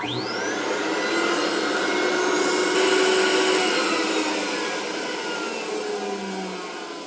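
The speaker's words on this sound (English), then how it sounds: "I allowed the vacuum to run for about 15 to 30 seconds or so" A loud, steady motor roar from a vacuum former making a dental whitening tray runs continuously, swelling slightly in the middle before easing off, with no talking.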